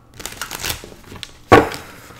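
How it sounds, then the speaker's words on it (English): Tarot cards shuffled by hand in a quiet room, a run of soft papery riffles followed by a sharper, louder slap of the deck near the end. "I want to shuffle a little bit more."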